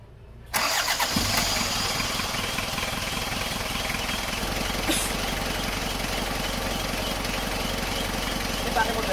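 An Isuzu Panther diesel engine fitted with an aftermarket imitation fuel pump is cranked and starts, then settles into a steady, loud, close diesel rumble that continues to the end without a break.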